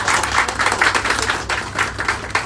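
A small group applauding during a visit to a CAD jewellery design course, loose irregular clapping from a few people nearby over a low steady hum, short and moderately loud.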